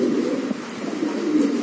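Giribaz pigeons coo in a low, continuous, throaty murmur, close and moderately loud, with no voices.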